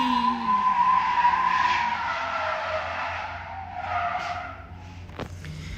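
Tires squeal steadily as a car drifts during practice at a drift championship event on a speedway, a loud sustained screech with engine noise underneath that fades slightly toward the end before a sharp burst.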